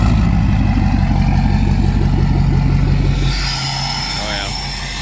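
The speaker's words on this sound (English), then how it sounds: "Truck fired up, get her pulled up." A pickup truck engine runs close by with a loud, steady rumbling throb that softens and settles lower partway through, while faint voice-like sounds mix in toward the end.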